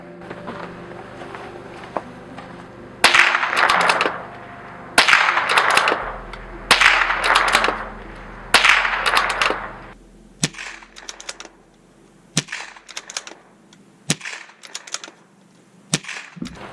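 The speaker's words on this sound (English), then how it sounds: "now we're doing suppressed, same can as the pistol" Suppressed rifle shots fired at night with a can also used on a pistol: four loud muffled reports about two seconds apart, each with a short decay, then sharper, quieter cracks and clicks spaced out toward the end.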